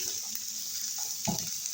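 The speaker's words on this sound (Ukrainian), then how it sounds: "Поки смажиться засмажка" Steady, close sizzle of a roux frying in a pan, with a brief stirring scrape partway through and no talking.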